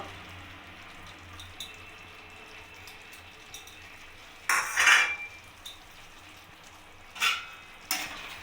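Chilli soybean with capsicum and onion is stirred in a pan, heard as a quiet background followed by a few loud metallic scrapes and clanks of the spoon against the pan, spaced apart near the end.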